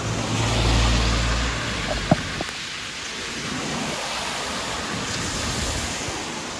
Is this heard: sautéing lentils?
no